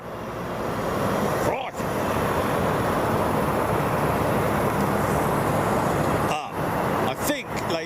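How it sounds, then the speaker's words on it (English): An ex-Lufthansa MD-11 jet at Boeing Field, a steady, loud broadband roar of engines that holds throughout, with short voice interjections breaking in now and then. "this is an MD-11, ex-Lufthansa"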